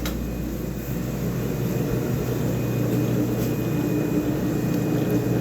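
An electric mixer runs on low, mixing focaccia dough, giving a steady, close motor hum with a low drone that holds unchanged throughout and no talking.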